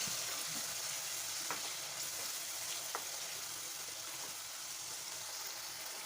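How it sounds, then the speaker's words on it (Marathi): Green masala paste fries in hot oil in a pan for a matar bhaji, a soft, steady sizzle with a couple of faint stirring clicks, heard alone without talk. "आता सर्व मसाला छान तेल सुप्यापर्यंत परतून घ्यायचा"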